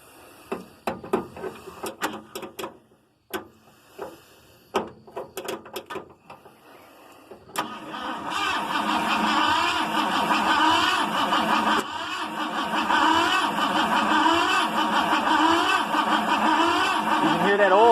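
Ford F-150 from 1986 with a 302 V8 being cranked over: a few irregular clicks and bursts, then a sustained churning, whirring mechanical drone that keeps building in level, close and loud.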